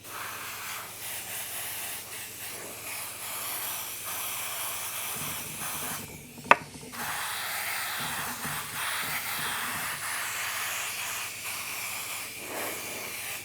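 Steady airy hiss of a paint spray gun running continuously, with one sharp click partway through and some low rumbling underneath.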